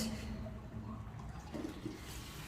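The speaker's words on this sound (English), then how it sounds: "Let the water out." Water gurgles and rushes as it drains from a sink, a steady low swirling flow with a few bubbly glugs, close by and with no voices.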